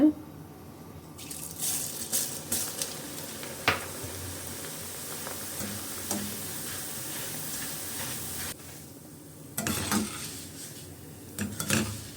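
Thick flattened rice tumbles into a pan and is stirred with a spoon against metal, making light clatters and scraping over a soft sizzle, with occasional clinks.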